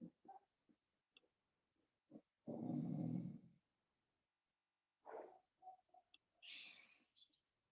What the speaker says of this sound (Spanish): Si escuchan a alguien gruñir o quejarse, en mi perra que está ahí aburrida.